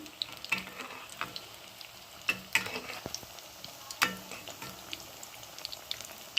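Aloo bonda fry in hot oil, a soft bubbling sizzle broken by scattered sharp crackles and pops, close and fairly quiet with no talking.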